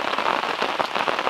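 Rain falling steadily on a solo campsite in the forest, a dense close patter of drops on surfaces, continuous and fairly loud with no voices.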